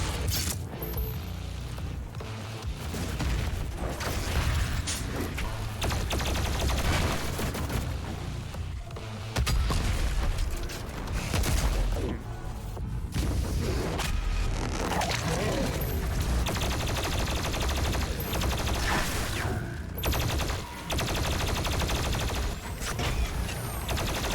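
Dense, continuous gunfire from the first-person shooter DOOM Eternal, with rapid shots, mechanical clanks and combat noise stacked together at steady high loudness for the whole stretch.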